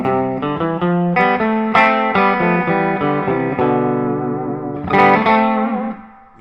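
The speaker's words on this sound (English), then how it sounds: "enough that you can hear the reverb, but not so much that it drowns everything out." An electric guitar plays a clean melodic line of single notes and short chords, each ringing out with a noticeable reverb tail, fading out at the end.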